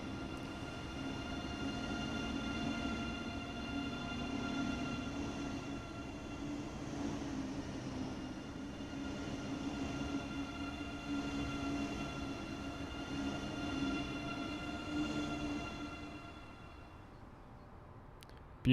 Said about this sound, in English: They make an interesting sound, these German trains, when they pull out.